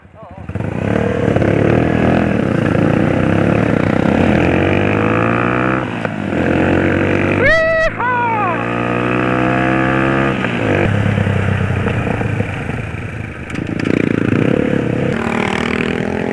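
A motorcycle engine drones steadily for the whole stretch, loud and close, with a brief rising whine in the middle and voices mixed in.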